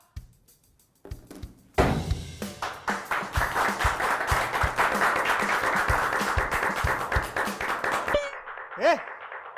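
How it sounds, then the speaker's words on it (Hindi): A short burst of hand clapping in an indoor comedy sketch, starting after a moment of quiet and building into steady rhythmic claps from several hands, ending with a brief voice. "ताली क्या बजा रहा है?"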